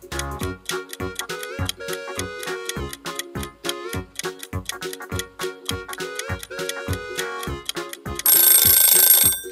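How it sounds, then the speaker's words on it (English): A telephone rings in quick, regular bursts of bright ringing, loud and close, with no talk, ending in a sustained louder ring. "It's a telephone."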